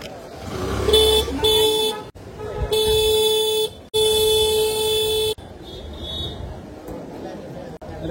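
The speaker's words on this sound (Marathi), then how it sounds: "ट्रॅफिक परत झालं इथे थोडंसं" Busy street traffic in Mumbai's Bhuleshwar market area, heard from a bike, with several loud, sustained car horn blasts in quick succession over engine noise and crowd bustle, and voices talking.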